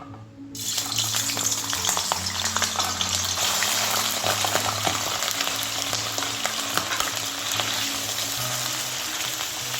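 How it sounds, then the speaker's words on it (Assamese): Paneer cubes fry in a little hot oil in a home kitchen pan, giving a steady, close crackling sizzle that runs the whole way through, with a low tonal hum beneath it and no talking. "মই এতিয়া পনীৰখিনি মই অলপ তেলত ফ্ৰাই কৰি লওঁ"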